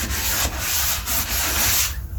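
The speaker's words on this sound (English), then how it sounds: "lightly sand it and get the stuff off, just the excess" Light hand sanding of a wooden display pedestal being smoothed for paint: close, steady rhythmic rubbing strokes with brief pauses between passes, alone without talk.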